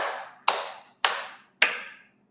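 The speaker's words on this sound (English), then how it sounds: "Just clapping." Four sharp hand claps ring out at a slow, even pace, each one loud and close and trailing off in a short room echo.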